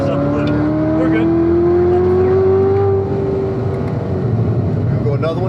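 A 2019 Corvette ZR1 accelerating hard on the Spring Mountain race track, its engine note climbing steadily in pitch as a loud continuous roar, easing briefly near a shift, with people talking in the car.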